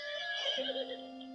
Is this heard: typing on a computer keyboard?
no